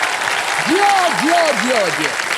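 Studio audience applause for a singer on the quiz show KBC, a steady dense wash of clapping with a voice speaking over it near the start.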